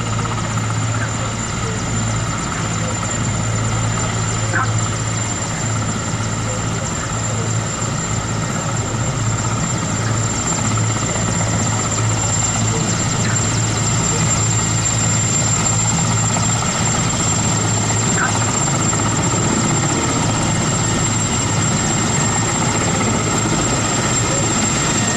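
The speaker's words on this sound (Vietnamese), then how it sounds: "Chúng ta cùng chứng kiến các chiếc trực thăng của Không quân Nhân dân Việt Nam đang đồng loạt cất cánh lên khỏi mặt đường băng." Vietnam People's Air Force helicopters lift off together from a runway amid mountain scenery at Dien Bien during an anniversary flight display, a loud, sustained rotor thrum and engine whine that holds steady for the whole stretch.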